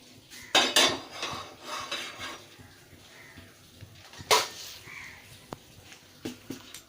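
Pots, dishes and cutlery clattering in a home kitchen while tea water is put on to boil, sharp scattered metallic clanks and knocks at an irregular rhythm, close and fairly loud against a quiet background.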